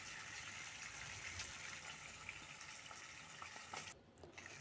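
Shing fish (stinging catfish) frying in hot oil makes a steady, soft hiss with faint crackles that drops away near the end.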